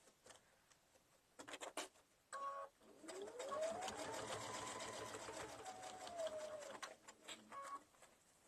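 Sewing machine stitching a fabric pumpkin bag, with short bursts of stitching giving way to a longer steady run, a faint thin tone rising and falling beneath the clatter.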